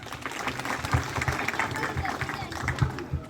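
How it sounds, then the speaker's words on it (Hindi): Audience clapping at a tribal family gathering at Khedla Fort in Betul district, a moderately loud round of applause mixed with crowd voices and chatter throughout. "उन सारे लोगों के लिए एक बार तालियां बजा दीजिए"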